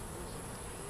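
A honey bee swarm at a top bar hive hums in a dense, steady buzz that fills the whole moment, close and continuous with no voices.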